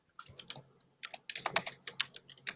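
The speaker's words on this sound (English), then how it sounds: "If Jalen's interpretation of somebody typing like they mad, Callie." Fast typing on a computer keyboard, bursts of rapid key clicks with brief pauses between flurries, close and clear with no talking.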